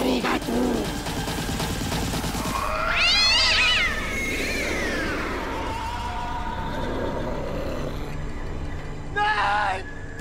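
Cats meow and yowl in a drawn-out, wavering caterwaul set against a dramatic TV-serial soundtrack, with one long rising wail near the start and another shorter cry toward the end.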